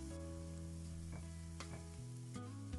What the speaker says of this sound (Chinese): 油热之后倒入葱蒜末